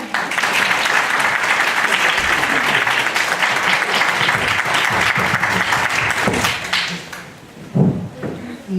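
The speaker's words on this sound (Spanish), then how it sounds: "Les damos un aplauso como bienvenida." Welcoming applause from an audience at an academic neuroscience panel, steady and dense for about seven seconds before tapering off into a few thumps and scattered claps.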